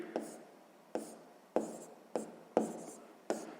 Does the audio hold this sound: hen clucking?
no